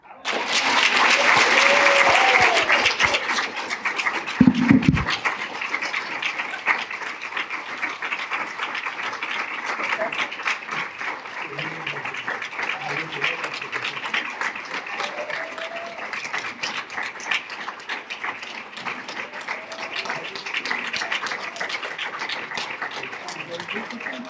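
Audience applause for Professor Deborah Cladden at a social justice lecture series, loud at first and then settling into steady, lighter clapping that continues throughout, with some voices underneath.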